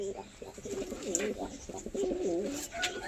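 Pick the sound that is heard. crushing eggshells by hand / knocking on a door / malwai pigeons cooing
malwai pigeons cooing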